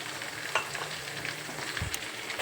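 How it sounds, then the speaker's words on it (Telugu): Sliced onions and green chillies frying in a pan over tempered cumin seeds: a soft, quiet, continuous sizzle with a few light stirring scrapes, no voices. "తర్వాత ఉల్లిపాయలు, పచ్చిమిరపకాయలు వేసి వేయించుకున్నాను."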